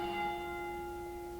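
A clock tower bell's ringing tone lingers, steady and sustained, fairly faint and distant with no other sounds.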